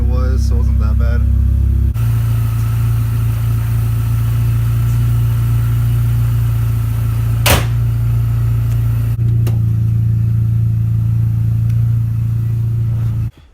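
A Mini Cooper S R53 engine idles low and steady at close range after new spark plugs and wires are fitted, a continuous hum that changes pitch slightly partway through before cutting off at the end.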